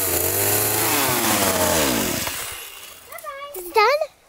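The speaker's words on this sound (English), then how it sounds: "when I use the chainsaw" A chainsaw runs loud and steady at an off-grid home build site, its engine note sweeping through the first two and a half seconds before cutting out, followed by a few brief voiced sounds.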